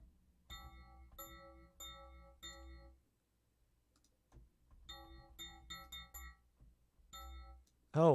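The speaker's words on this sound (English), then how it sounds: "Some scary sounding bells." Synthesized bell tones from a preset in Renoise ring out in short repeated groups with bright, metallic overtones, pausing in between, followed by a brief loud swelling note at the end.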